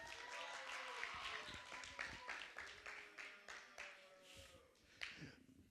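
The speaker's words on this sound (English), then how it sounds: "everybody give Brian a round of applause" Audience applause at a church gathering, a burst of scattered individual claps that thins out over several seconds, with faint voices mixed in.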